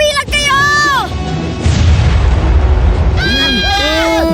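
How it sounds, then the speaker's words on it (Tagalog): A cartoon underwater explosion sets off a loud, rumbling boom in the middle. Bright whistling and sliding tones from the cartoon come before and after it. "May sumabog! Umilag kayo!"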